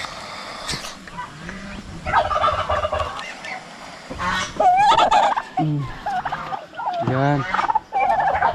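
On a small farm with ducks and freshly hatched chicks, turkeys gobble loudly and repeatedly at close range, with overlapping warbling bursts throughout.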